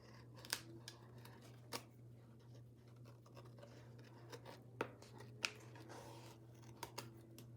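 Scissors trim material in a quiet room, giving faint, scattered snips and short cutting strokes over a steady low hum.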